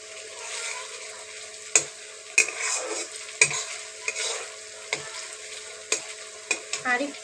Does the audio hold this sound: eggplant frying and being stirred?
yes